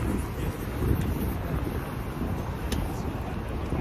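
Steady wind blows outdoors in Sydney on a cloudy, cool day, a loud continuous rumble buffeting the microphone throughout, with no talk.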